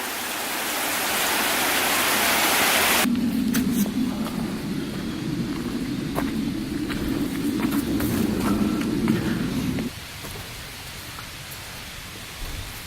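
Waterfall at Grayville Falls on Raymond Brook, a loud broadband rush of falling water that carries on throughout, with a sharp shift in tone partway through as the recording position changes.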